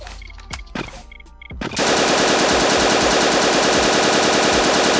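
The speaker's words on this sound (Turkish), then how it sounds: "Ya sana ateş ettim ama vurmadın." Automatic gunfire in a multiplayer shooter video game, a few sharp shots at first, then a loud continuous burst of machine-gun fire through the rest of the clip, with no talking.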